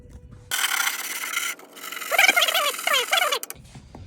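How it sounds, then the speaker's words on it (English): Sanding an aftermarket speaker ring smooth at its corners for mid-bass drivers on a Harley Electra Glide, heard as a steady hand-sanding rasp lasting about three seconds, with a brief scratchy break and some chirpy squeaks in the middle. "So we're gonna now go in and sand it to smooth it all out and make it look as perfect as we can."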